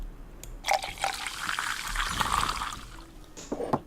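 Beer poured from a bottle or tap into a glass during a St Patrick's Day gathering, a close, steady liquid gush with splashy trickles building over a few seconds, no talk.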